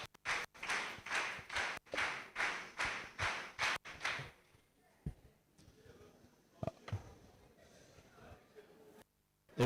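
An audience at a trainers' summit in Owerri claps in unison, about ten sharp, evenly spaced claps. Scattered quieter taps and murmurs follow as the clapping dies away.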